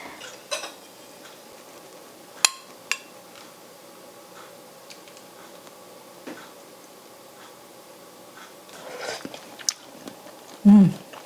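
Homemade Filipino pork and beans, simmered 1.5 hours, is tasted with a few sharp spoon clicks against a dish followed by soft close chewing, quiet between sounds and ending with a brief louder thump.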